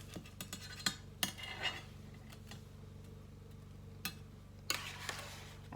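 Vegetarian meatballs set one by one into a 9x13 baking pan in a home kitchen, giving a series of light, scattered clinks and taps close by with a steady low hum underneath.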